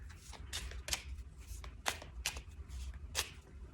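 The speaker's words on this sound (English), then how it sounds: "So you give your first pile a shuffle." Tarot cards are shuffled by hand, with several quick riffling bursts at irregular intervals, close but soft, and no talking.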